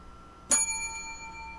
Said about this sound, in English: It's a real bell, actually. Oh, like at the hotel.